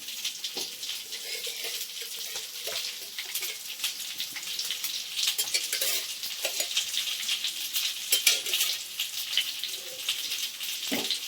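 Fish fries in a clay pot for a Sunday fried fish stew, giving a steady close hiss of sizzling oil with small crackles and occasional scraping throughout.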